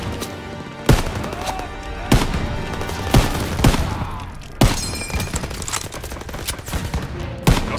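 Covering gunfire in Call of Duty WWII: loud, sharp individual shots at uneven intervals ring out over a dense wartime din of rattling fire, debris and rumble, with no voices.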